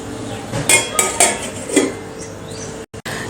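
A metal lid is set onto a pot of foxtail millet pulao cooking over low gas, giving a few sharp clanks and rattles in quick succession, close and fairly loud, followed by quiet.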